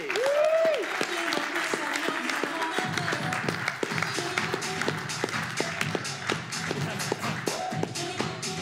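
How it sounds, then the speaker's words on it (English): Audience applause in a lecture hall welcoming a speaker back to the stage, a sustained, fairly even patter of many people clapping that runs throughout, with a brief voice at the very start. "Let's do a huge round of applause, please"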